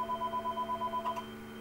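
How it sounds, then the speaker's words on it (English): A house phone rings in a fast pulsing electronic burst, fairly close and steady, then cuts off abruptly, leaving a quiet background hum. "That's actually my stupid phone. The house phone."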